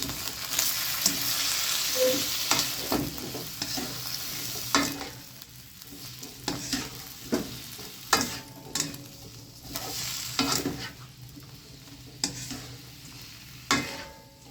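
Kale and canned fish being stir-fried in a pan, with a steady sizzle broken up by repeated sharp scrapes and clanks of a spatula against the pan, close by, with no talking.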